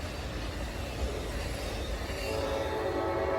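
An Amtrak Coast Starlight passenger train hauled by P42DC locomotives rolls past at the Oakland Coliseum station, a steady broad rumble and rail noise with a faint rising whine toward the end, no talking.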